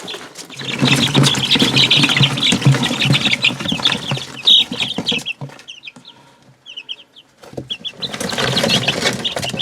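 Young chickens in an indoor brooder cluck and chirp in a busy, close chorus, with bursts of wing flapping and scuffling; the noise thins to a few scattered peeps midway, then rises again.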